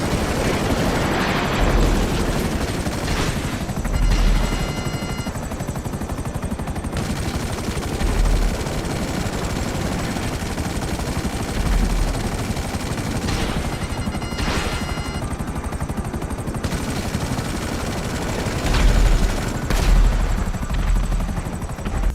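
Buzzard attack chopper from GTA 5 Online flying steadily, its rotor drone continuous and close throughout, with bursts of machine-gun fire breaking in at several points.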